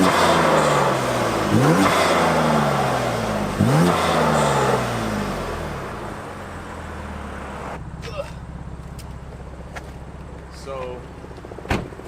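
A BMW F82 M4 turbo engine with a front mount intake rumbles loudly and revs up twice in rising surges, then settles into a steady idle while a person talks over it.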